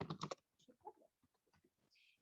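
Someone types on a computer keyboard: a quick burst of loud clustered keystrokes, then sparser, softer, irregular key taps with short pauses, all fairly close and with no talking.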